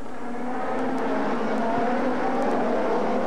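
1996 ITC touring race cars at Interlagos, a sustained high engine howl from on-board at speed with the pitch holding steady and a few brief shifts, loud and continuous with no talk.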